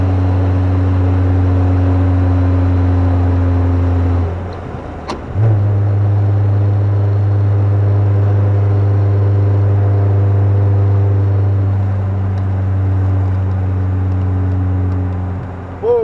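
First-generation Kia Sportage cruising on a highway at 55 mph, with steady loud engine drone and road rumble heard from inside the cabin, pitch shifting briefly partway through, no talking.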